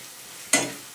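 Young jackfruit and potato hit a pan of oily fried spice paste with a sudden close sizzle that fades, followed by the start of a second hiss.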